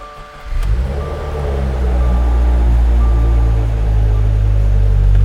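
A rebuilt Subaru WRX engine cranks and fires after a brief quiet moment, then settles into a loud, steady idle rumble close by with no talk.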